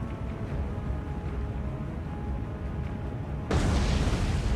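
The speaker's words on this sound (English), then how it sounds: "Is she going to get a third torpedo strike?" A torpedo strikes a ship in the War on the Sea naval game, a steady low rumble of water and hull noise giving way to a sudden, louder explosive burst near the end.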